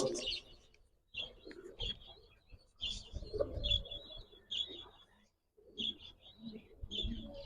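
A male jeera-neck pigeon coos in short repeated bursts close by, with chirping calls interspersed and someone talking over and between the calls.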